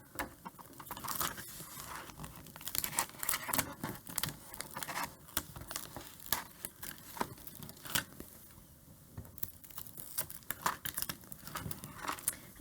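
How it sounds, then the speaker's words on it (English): Scissors trimming excess vinyl from a long design for a welcome sign, heard as irregular crinkling, crackling snips and tearing rustles, close and fairly quiet, with no voices. "I'm going to use my scissors here because it's a long design"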